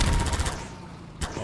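Gunfire in Half-Life 2, a quick burst of loud close shots in the opening half-second that fades into a rumbling tail, then one more sharp crack near the end.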